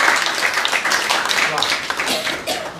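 A mushaira audience in London claps throughout, a dense, close wash of applause with a voice speaking over it.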